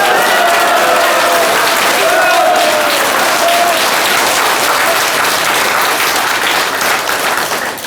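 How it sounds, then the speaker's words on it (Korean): Sustained applause from a large crowd of about a thousand conservative supporters at a political lecture in Daejeon, dense clapping steady and loud throughout with a faint voice underneath. "이분들 문재인 욕하면 이렇게 박수가 나오나요"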